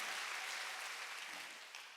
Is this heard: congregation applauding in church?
yes